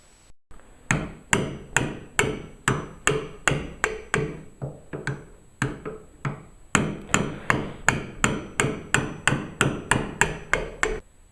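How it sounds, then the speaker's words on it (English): A hammer drives a chisel to cut a hinge mortise into a wooden door, giving sharp, evenly spaced close strikes in a steady rhythm, about two per second, with one brief pause partway through. "you want the amount of wood that you chisel out to be the thickness of the hinge"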